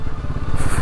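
A motorcycle engine thrums with a steady, pulsing low beat, close and fairly loud, as the bike rides a slippery mud road in the Pangi Valley between Sural Bhatori and Manali.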